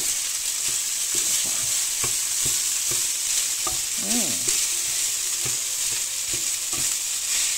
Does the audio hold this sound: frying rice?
yes